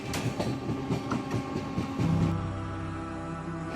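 A passenger train rolls along the rails on a journey toward Beohari Junction, a steady rumbling clatter with rhythmic wheel clicks heard from inside the carriage, loud and continuous with no talking.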